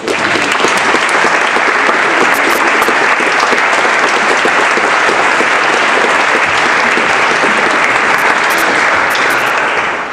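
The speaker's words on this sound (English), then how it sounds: "Why don't we just welcome Madeline with a round of applause." An audience claps steadily to welcome a woman coming up to share her story, a dense, loud, even wash of applause that lasts the whole time with no voices on top.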